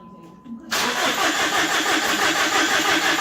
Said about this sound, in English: go ahead and crank that over.